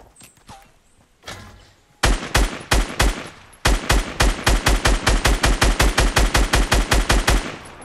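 Gunfire in the video game Fortnite: a few scattered sharp shots, then a rapid, loud, evenly spaced burst of automatic fire that keeps going, with no voices over it.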